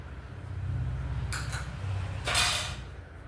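Tomato chutney pounded in a mortar, with oil and chilli powder added: dull, muffled thuds repeating low under faint clinks, two short brighter scrapes partway through and a louder grinding burst near the end.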